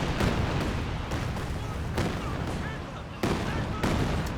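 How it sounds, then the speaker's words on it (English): Calliope rocket artillery in Company of Heroes 2 fires amid a multiplayer battle, with dense overlapping booms and crackling impacts, loud sharp bursts punctuating a constant roar of combat noise. "Calliope's on the field, hitting the MG."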